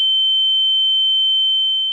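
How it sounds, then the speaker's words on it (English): A raw, sharp ringing tone made as a sound effect for a 1940s-style film, a loud, steady, piercing single pitch that holds unbroken for almost two seconds before easing slightly at the end. "taming the raw ringing sound because it's such a sharp sound that if you listen to it raw, like this"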